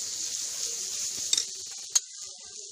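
Onion and garlic sizzle steadily while frying in a pan, a soft continuous hiss with a couple of brief clinks from a utensil against the pan.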